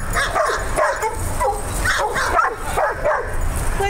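Several dogs bark and yip in quick, repeated bursts close by, with whimpering mixed in and a steady rhythm of yelps throughout.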